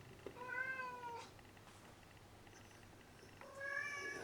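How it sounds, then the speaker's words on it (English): A pet cat meows twice indoors, with one drawn-out meow near the start and another toward the end, both clear and close, separated by a quiet pause. "my pussycats meowing like normal"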